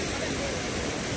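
Water flows down from Osam hill near Patanvav, a steady, dense rushing wash like a small waterfall or stream, continuous and close for the whole moment.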